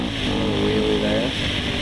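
A Suzuki LTZ 400 quad's engine revs up, rising in pitch through a wheelie on a muddy ride, loud and close with steady rumble underneath.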